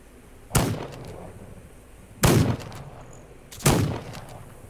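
Three separate sharp gunshot blasts in a video game firefight, spaced about a second and a half apart, each loud and booming with a short decaying tail over a low background hum.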